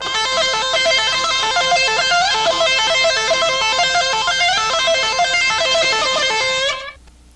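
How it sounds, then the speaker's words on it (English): Electric guitar lead played with a pick-hammering technique, fast continuous cascading notes ringing bright and loud for about seven seconds before cutting off. "with my right hand I'm hammering with the pick"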